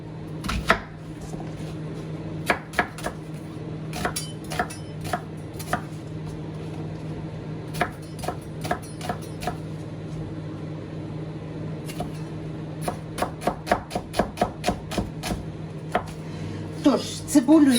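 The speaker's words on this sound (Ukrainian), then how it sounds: "Цибулька вже в мене готова очищена, тільки нарізати. Тож, я її нарізаю кубиком." A knife chops a peeled onion into cubes on a cutting board in uneven bursts, speeding up into quick rhythmic runs over a low steady hum.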